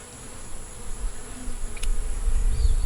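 Angry honeybees buzz around an open hive, a steady low drone that swells louder toward the end, with no voices over it.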